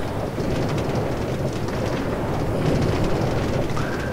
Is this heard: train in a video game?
yes